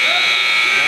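A basketball game buzzer sounds at the end of the first half of a high school game between Edmondson and Milford Mill at Morgan State: one steady, loud electronic tone holds for the whole moment over arena noise.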